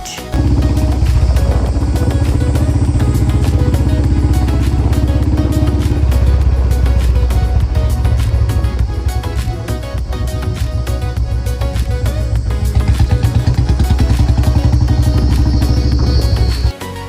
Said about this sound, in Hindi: तो फिर मैंने चलाया बुलेट